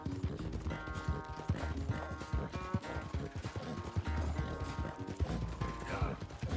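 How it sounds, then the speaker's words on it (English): A horse galloping fast in Red Dead Redemption 2, its rapid, steady hoofbeats pounding close and loud over a continuous bed of game music. "You ever seen a horse go this fast before?"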